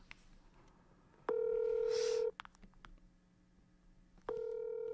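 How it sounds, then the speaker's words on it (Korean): A telephone dials out to connect a call, with a steady tone lasting about a second, a pause with faint clicks and a short burst of noise, then the tone returning. "전화 한번 연결해 볼게요"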